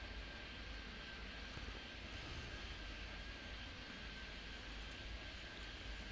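A slow plane rolling out along the runway in the airport video game Airport Madness 3D, its steady jet engine roar droning on without a break at a constant level the whole way through.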